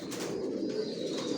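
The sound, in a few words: racer pigeons cooing in a loft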